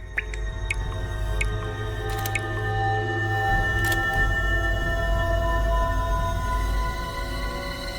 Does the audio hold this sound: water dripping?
yes